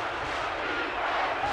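A deafening crowd at a college football stadium roars steadily through a third-and-short play. The wash of noise is loud and unbroken, with no distinct voices standing out.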